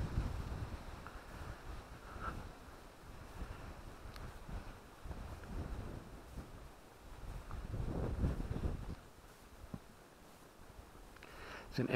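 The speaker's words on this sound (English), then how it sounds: "the wind blowing the leaves again" Wind gusting through tree leaves in a Suffolk churchyard, a soft, uneven rushing that swells and fades, fairly faint with some microphone buffeting.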